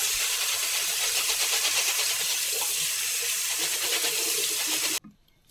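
Running tap water pours and splashes over lentils being rinsed, a steady close hiss that stops abruptly near the end.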